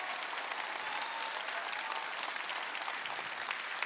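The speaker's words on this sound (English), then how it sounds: "let's thank them all with a loud round of applause for all of their work on your behalf" Steady applause from a crowd at a robotics district event fills the whole stretch, a dense even clatter of clapping hands with no voices over it.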